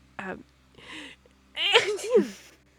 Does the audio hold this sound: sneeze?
yes